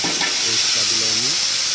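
Onion, garlic and ginger paste sizzles in hot oil for an egg and potato dish, a bright, steady frying hiss with some stirring, and a voice briefly audible in the middle.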